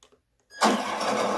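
A small HG-P408 RC Humvee, a scale US military vehicle, starts up: after a moment of quiet, a sudden buzzing whir kicks in and holds steady and fairly loud, with no talking over it.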